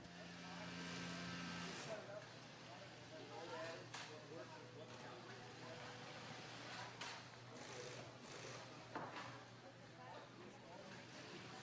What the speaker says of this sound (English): using a special heavy-duty sewing machine